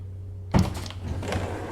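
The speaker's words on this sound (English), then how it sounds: "Opens just the front doors." The front doors of a Vienna tram in the Tramsim console simulator open with a sudden pneumatic hiss and rumble that cuts in after a moment of low hum and continues steadily.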